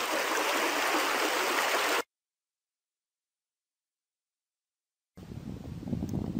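Water rushes steadily through a culvert fitted with a gate, a loud, hissing flow heard in two stretches separated by a few seconds of complete silence.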